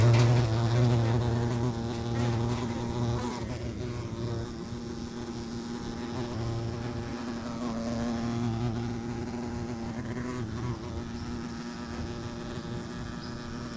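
Honeybees buzz at the hive entrance while hornets hover close by, a dense, continuous droning hum heard close up and fairly loud, with the pitch wavering as insects move in and out.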